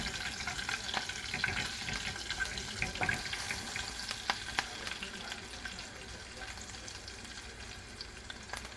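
Green chillies and curry leaves fry in hot oil for amla rasam, a steady close sizzle with scattered crackles and pops throughout.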